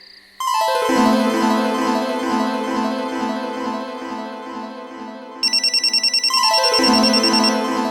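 A telephone rings out alone in a tonal electronic ringtone pattern, loud and close, its repeating melody shifting pitch partway through, with no talking over it.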